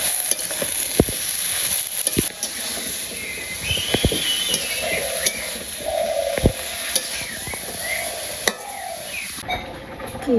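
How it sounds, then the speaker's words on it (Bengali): Okra and green chillies sautéing in a pan, a steady bright sizzle with scraping stirs and occasional sharp clinks of the utensil against the pan, close and continuous with no talking. "তারপরে আমি সবজিটা কষিয়ে নিই।"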